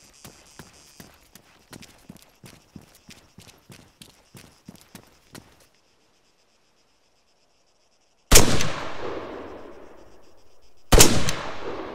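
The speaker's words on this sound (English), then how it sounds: "Okay, so that still uses the default assault rifle sound" An assault rifle in ArmA 3 fires two loud, booming shots a few seconds apart, each ringing out with a long echoing tail, after a run of quiet rhythmic mechanical clicks.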